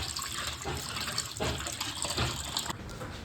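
Water gushes and splashes as fish is washed with turmeric and curd, a close, continuous running-water sound with irregular sloshes and surges and no talking.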